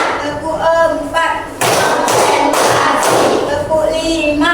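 In a classroom, children clap in a counting clap game. A teacher speaks, then a short burst of hand claps breaks in and talking resumes afterward.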